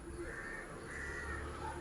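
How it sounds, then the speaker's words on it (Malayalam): A crow caws in a few drawn-out calls against a steady background hiss, moderately close and clear, with no talk over it. "ഉത്തരം കാക്ക"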